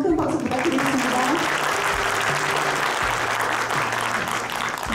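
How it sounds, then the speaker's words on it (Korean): Audience applause at an award ceremony for the MPC 2024 awards, held at Mekasma Impact 2024 Winter, rolls on steadily and loudly for the full stretch, with a faint low tonal hum beneath the dense clapping. "다시 한번 큰 박수 부탁드리겠습니다"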